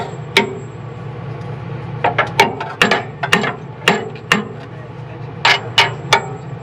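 A hammer taps a bolt through an aftermarket control arm while lowering a Chevrolet Silverado or GMC Sierra pickup: a close series of sharp metallic knocks in irregular bursts, some in quick doubles, with no one talking.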